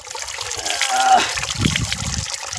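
Running water splashes and trickles as hands are rinsed, close by, with a brief voice murmuring partway through.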